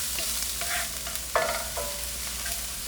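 Ginger and garlic sizzle and fry in an oiled pan while being stirred, a steady crackling hiss with a few scraping stir strokes and one sharper clatter, close and alone with no talking.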